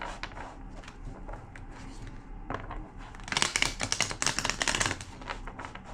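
A deck of cards is shuffled close by during a card reading. Soft scattered clicks give way to a louder burst of rapid riffling flutters in the second half.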